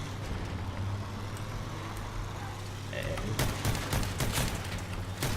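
Weapon fire rattles in the vehicle combat game Crossout during driving, a steady engine drone under it and a burst of rapid shots in the last two seconds, with some talk mixed in.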